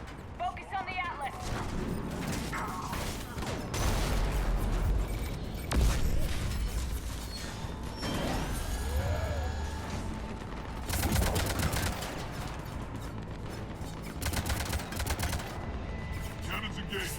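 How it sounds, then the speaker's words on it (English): Warship cannons fire in the video game Mass Effect 3 as heavy booms and mechanical clatter recur through a busy battle, mixed with machinery noise and talk. "Cannons engaged."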